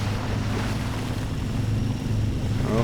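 A truck in the video game MudRunner pushes down into water, giving a steady low engine rumble with continuous sloshing, washing noise, loud and unbroken, with no talking.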